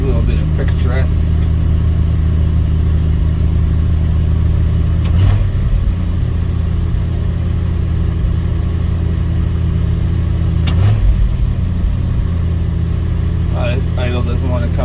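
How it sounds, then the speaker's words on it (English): A Dodge D100 pickup engine idles steadily after a cold start at night, a constant low rumble with a high idle that stays up, plus a couple of brief louder bumps and faint background sounds, no talking. "A little bit of cold start in the night action here."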